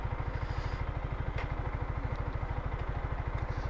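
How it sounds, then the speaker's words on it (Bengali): A second-hand Yamaha R15M motorcycle idling close by, its single engine thumping in a fast, even, steady rhythm throughout, with no talk over it. "এই যে জাহিদ সাহেব, এখানে রাখি বাইক"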